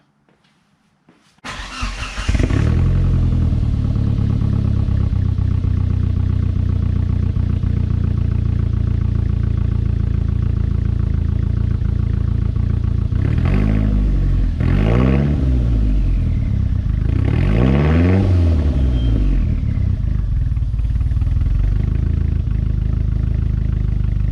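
A Mitsubishi Galant VR4 engine fitted with new camshafts cranks briefly and starts, then settles into a loud, steady idle up close, with a few revving swells near the end.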